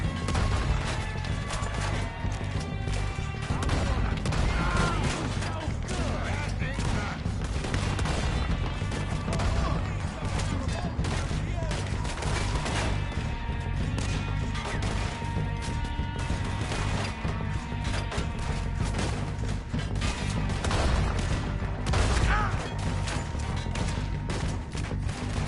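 In Red Dead Redemption 2, dense gunfire crackles nonstop with overlapping shots, crashes and mechanical clatter, staying loud and busy the whole time with no talk.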